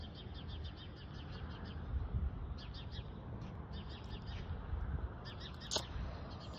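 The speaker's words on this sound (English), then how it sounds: "I'm learning from the birds. You hear them chirping, they're giving me a new tune." Outdoor birds chirping in the morning, a chorus of light repeated tweets spread across the stretch, fairly faint against a low background rumble, with no speech.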